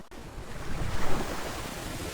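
Sea waves off Surigao del Norte surge and wash in a continuous roar, swelling in the middle, mixed with gusty wind buffeting the microphone.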